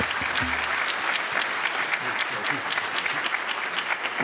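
Sustained audience applause welcoming a speaker onto the stage at a neuroscience talk event, a steady dense clapping of a sizeable crowd that stays loud and even throughout, with a brief low thump near the start.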